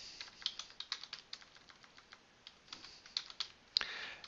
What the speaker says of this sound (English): I begin by typing in configure